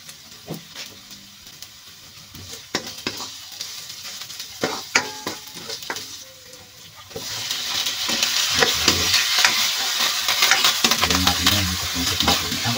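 Ginger and tuna jaw sauté in a pan for tinola, starting with scattered clinks of stirring over a soft hiss before a loud, dense sizzle takes over partway through, close up, with utensil scrapes continuing.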